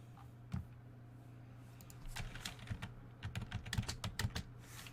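Someone types on a computer keyboard, first a lone keystroke, then quick irregular bursts of clicking close by over a low steady hum, with no talking.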